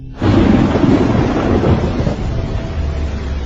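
A big storm rolling toward an island, with loud, sustained rumbling thunder over steady heavy rain, filling the scene from start to finish with no voices.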